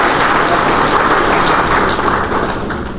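Loud, dense audience applause at an awards ceremony for bank branch staff, a thick wash of many hands clapping together that stays strong and steady throughout.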